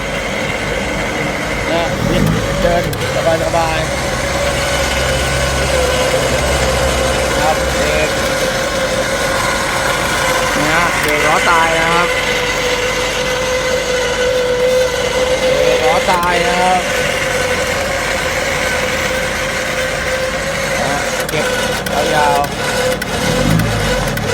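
Vehicle engine idling and revving during a winch pull test on a dry concrete surface, a steady mid-pitched drone with several short rev surges, while people talk over it.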